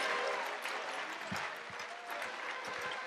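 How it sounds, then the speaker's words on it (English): A church congregation at a Sunday revival service claps steadily, with a continuous wash of applause and some nearby sharper claps throughout. "Boy, you can't be done clapping that fast."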